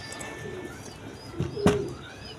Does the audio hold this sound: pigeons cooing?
yes